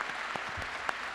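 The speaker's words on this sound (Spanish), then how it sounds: "Un aplauso para todos ustedes." Faint, steady applause from an audience at a Partido Obrero book presentation, with dense continuous clapping and a few sharper claps standing out, heard at a distance.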